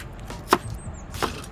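A chef's knife chops vegetables on a cutting board, giving two sharp, close chops about two-thirds of a second apart against a quiet background.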